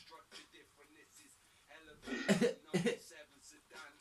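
A couple of rough coughs break out in the middle, close to the mic, with someone talking quietly before and after.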